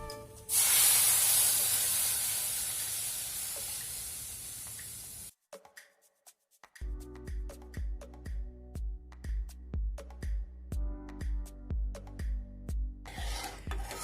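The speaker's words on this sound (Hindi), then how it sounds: "अभी इस पे डालेंगे मिल्क" Milk poured into a hot pan of flour hisses loudly in a harsh rush for several seconds, then gives way to rhythmic rubbing and stirring strokes, close and steady, with no talk.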